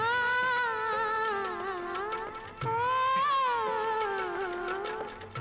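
A woman's sweet, melodic singing voice carries a sustained, wavering tune with a brief pause midway, clear and close with no talking over it.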